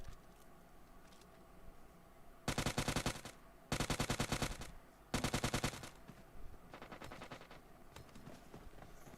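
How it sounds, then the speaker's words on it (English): Automatic gunfire in a battle royale shooter, three loud rapid-fire bursts close together near the middle, with fainter distant shots before and after. "they're giving shots to every team from here"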